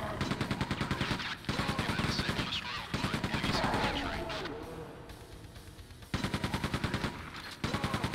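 Rapid machine gun fire from Quake II blasts in sustained rhythmic bursts, loud and close, with a brief lull in the middle before the shooting resumes.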